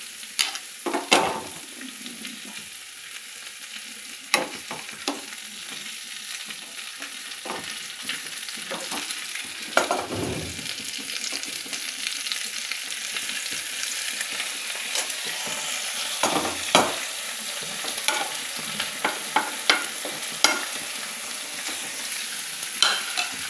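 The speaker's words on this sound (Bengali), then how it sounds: "পটলটা এরকম ভাজা ভাজা হয়ে গেলে এবার পোস্তটা দিয়ে দেবো এর মধ্যে" Pointed gourd fries in a pan with a steady sizzle, while a utensil scrapes and stirs in frequent sharp clacks and scrapes throughout.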